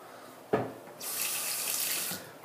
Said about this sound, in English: just going to rinse my face off a little bit